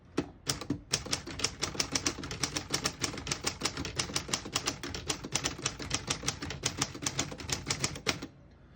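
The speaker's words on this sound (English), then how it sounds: "I'll type a sentence in red on the next line." Rapid, steady keystrokes from a 1935 Corona Sterling portable typewriter clatter continuously for several seconds, each strike crisp and close, ending with a brief quiet.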